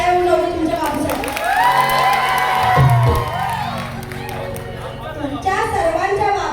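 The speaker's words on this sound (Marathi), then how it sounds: "जोरदार टाळ्या उडवल्या तुमच्या बाबूसाठी." Crowd at a live Marathi shahiri performance cheering and whooping, with clapping and chatter mixed in; a loud voice carries over the crowd noise.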